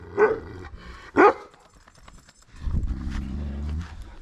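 A dog barks twice sharply nearby, then a lower growling rumble follows for a couple of seconds.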